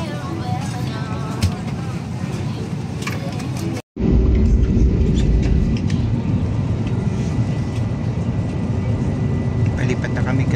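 Steady broadband roar of an airplane cabin on a Manila to Tokyo flight, loud and continuous, briefly cutting out before resuming with deeper low rumble; faint voices mixed in.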